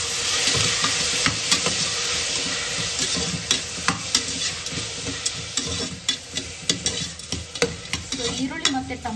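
Onions and tomatoes with salt sizzle in a pan for a vegetable kurma, a steady hiss broken by repeated scraping clicks of stirring, close and alone without voices.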